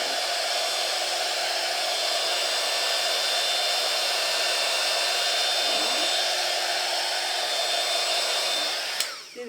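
A heat gun blows hot air to dry liquid watercolor paint: a steady, loud, broadband whoosh that holds unchanged for several seconds before cutting off abruptly at the end, close and with no voices.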